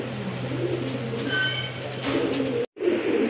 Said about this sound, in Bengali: আরেক জোড়া কোয়ালিটি ফুল কবুতর, খুবই সুন্দর দেখার মতো কবুতর, অনেক বড় সাইজের কবুতর